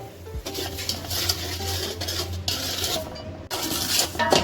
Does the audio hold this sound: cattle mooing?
no